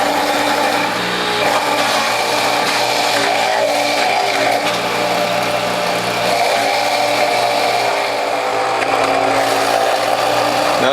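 Carrots fed into a juicer fitted with a grid of eighth-inch holes, a loud continuous motor whine and grinding that stays steady throughout, close by, with no talking.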